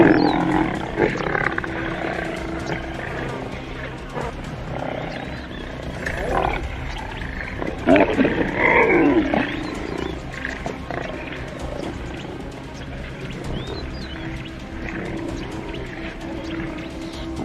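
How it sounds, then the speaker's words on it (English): Lions roar in deep, repeated bursts that swell and fade over a steady rumbling wild backdrop, loud and close, with no talking. "The roars of the wild, once confined to the savannah, echoed through the heart of the city."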